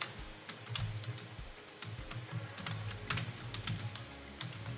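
Quick, uneven keystrokes on a computer keyboard while an email address is entered, soft and close with light clicky taps and brief pauses.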